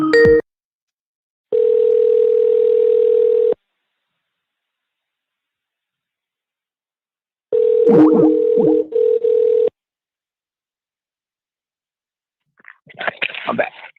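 Long steady telephone tones in two separate stretches while calling back after a dropped call, with a voice briefly talking over the second and a short burst of speech at the end.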